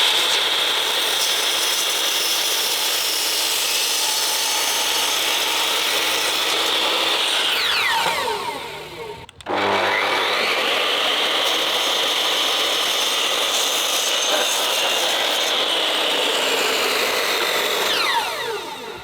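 A power saw cuts steadily through old WWII-era German wood in a workshop, a loud continuous rasp that pauses briefly midway, then resumes and runs on without any talk.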